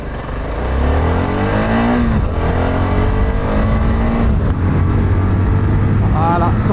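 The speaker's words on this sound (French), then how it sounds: "On va se faire un petit 0 à 100 à 3." A Voge 650DS motorcycle pulls hard from a standstill to 100 km/h on a straight road, with loud rising engine revs through quick gear changes and wind noise, heard from the rider's position.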